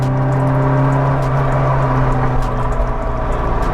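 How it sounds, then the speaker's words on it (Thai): A classic Alfa Romeo Giulia Sprint 105, a light car of about 850 kg, runs with a loud, close engine drone, its steady low tones humming under a gentle rise in pitch as it accelerates. "เสียงเครื่องน่ากลัว"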